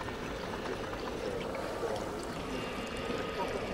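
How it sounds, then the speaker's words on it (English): Water being filtered in the video game We Happy Few, a steady rushing, pouring wash of liquid that runs continuously at moderate loudness without pause. "We're gonna filter all the joy water until it's done being joy water."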